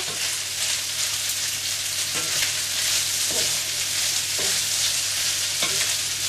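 Pasta, asparagus and other vegetables fry in a pan for an Italian bubble and squeak, giving a loud, continuous sizzle broken by occasional scraping stirs and tosses.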